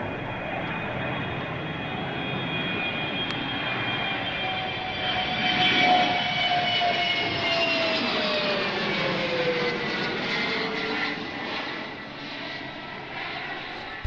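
A Saab jet aircraft flying, its engine roar steady and loud throughout, with a whine that slowly falls in pitch as it passes and swells slightly midway.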